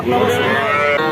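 A single loud, close calf moo, drawn out for about a second, at a heifer calf cattle market in Bangladesh.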